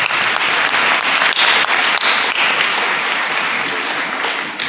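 Loud, dense applause from a church congregation at a Sunday Mass, a steady wash of many hands clapping together, sustained throughout and slowly tapering at the end.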